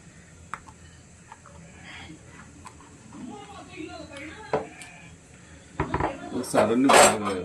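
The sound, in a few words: fish being added to a cooking pot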